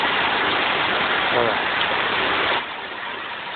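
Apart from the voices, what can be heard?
heavy rain falling outside a village house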